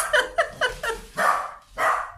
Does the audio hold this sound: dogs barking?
yes